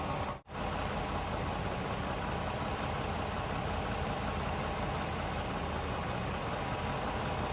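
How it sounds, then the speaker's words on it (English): A 3.5-litre Toyota V6 car engine idles steadily with a constant low hum and faint mechanical vibration, close up, broken only by a brief dropout near the start. "The engine sounds changing a little bit."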